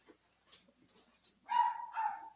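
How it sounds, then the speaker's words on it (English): A dog gives two short, faint barks after some quiet scrabbling and yips, heard from a distance in a quiet room with no talking. "My dog's losing its mind."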